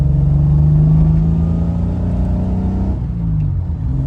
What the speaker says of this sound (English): You've got that delightful six-cylinder soundtrack which just never gets old